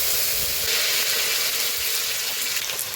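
Chopped tomato hits hot oil tempered with whole cumin, giving a loud, continuous sizzle and steamy hiss that fills the moment close to the pan, with no voices.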